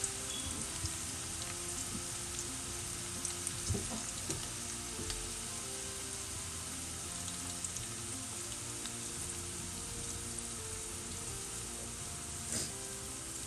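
Broccoli fries in hot oil for Manchurian, a steady dense sizzle and crackle with occasional light stirring clinks, close but fairly quiet, with no voices.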